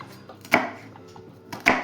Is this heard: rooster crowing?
no